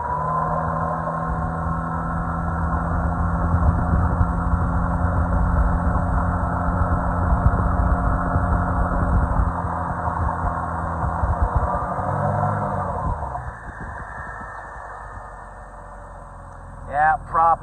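A small boat's outboard motor roars loudly with a low, uneven churning rumble as the prop blows out on a river, then drops off to a quieter idle as a voice speaks near the end.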